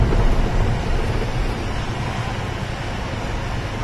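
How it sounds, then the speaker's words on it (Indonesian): Strong wind roars steadily through an April snowstorm on a slippery outdoor path, a loud, continuous broadband rush buffeting the microphone without pause. "Oh, angin keras sekali anginnya nih."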